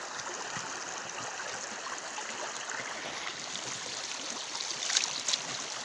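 Cold water flows steadily in a forest stream, a continuous rushing and babbling close by, with a few brief splashes near the end.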